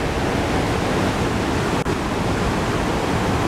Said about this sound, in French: Encore un coup d'œil sur les chutes avant de redescendre.